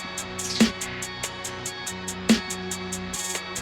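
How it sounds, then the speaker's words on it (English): Two crisp snare hits, one a rim, land in a sparse dark alt-rock trap beat made in FL Studio, spaced well apart over a soft tonal backing. "I have two snares that come in, sound like this"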